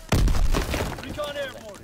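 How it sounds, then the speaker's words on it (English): An Azon glide bomb explodes in a World War II video game, a sudden loud blast that rumbles and fades over about a second. A voice talks over the tail end. "Dropping Azon bomb."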